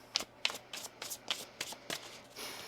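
Tarot cards being shuffled in a series of quick riffled bursts, about seven crisp flurries at a steady rhythm, close and clear with no talking.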